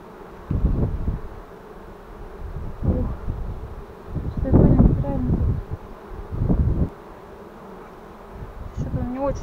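Bees buzz around hives at a village apiary, a low droning hum that swells in several loud bursts as insects pass close to the microphone, with light wind noise between them.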